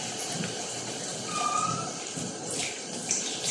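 Tap water runs steadily into a sink while vegetables are washed, a soft continuous splashing close by with no speech.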